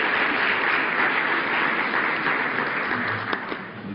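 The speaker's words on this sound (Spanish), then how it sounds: "Démosle un fuerte aplauso a la doctora Ruth Ríos" An audience at a financial research congress gives sustained applause for a guest speaker, a thick, continuous wash of clapping that holds steady and thins out toward the end.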